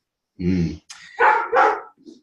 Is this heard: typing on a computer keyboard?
no